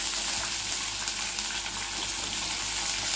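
Ginger and green chillies fry in a pan for an Andhra-style ginger chutney, giving a steady, close, hissing sizzle with no pauses and no talking.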